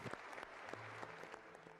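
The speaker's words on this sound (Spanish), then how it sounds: "Démosle un aplauso a este equipo." Brief applause from an audience honoring a conservation fund team, a short scattered burst of distinct claps at moderate distance, lasting under two seconds.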